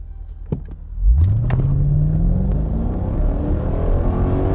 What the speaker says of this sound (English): Okay, let's see if we can do a 0 to 100 kilometers over here.